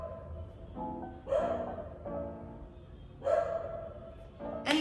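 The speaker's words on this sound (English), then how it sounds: "The dog's barking again." A dog barks several times at a distance in a neighbouring room of a home in Cartagena, Colombia, with spaced bursts of bark and yelping over a steady background.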